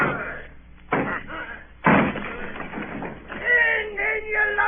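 A radio drama door is broken down with two heavy slams or crashes, one near the start and a louder one near two seconds. Shouting voices carry on around and after the blows.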